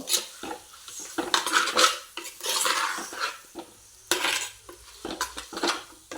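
Chicken gravy with masala is stirred in a pan, with repeated close scraping and clinking of a spoon against metal in uneven strokes over a light sizzle.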